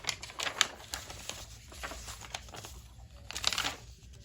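Washi tape is torn and pressed onto cardstock in a paper craft book, a series of sharp close crackles and rips interrupted by brief pauses.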